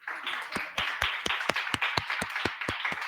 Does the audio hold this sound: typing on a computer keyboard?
no